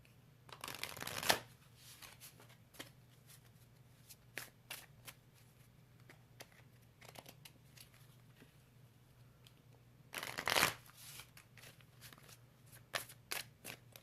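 Angel Oracle cards being shuffled close up: a quick riffling burst near the start and another around the ten-second mark, with faint soft card taps between and a low steady background hum.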